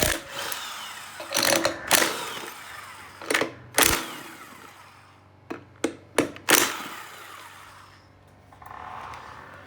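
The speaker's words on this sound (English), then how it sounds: "We're going to take off these 4 bolts." Wheel bolts being removed on a Chinese ATV, with sharp bursts of a power tool or wrench clicks in several short separate spurts amid quieter rattling and handling noise.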